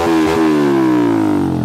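A Yamaha Exciter 135 motorcycle engine revs loudly and close by, one sustained rev that slowly falls in pitch with a steady rumble throughout, and no voices over it.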